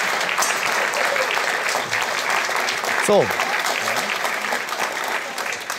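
A live audience at a Swiss celebrity cooking TV show applauds warmly for a guest, dense steady clapping with a brief voice heard over it midway, tapering toward the end.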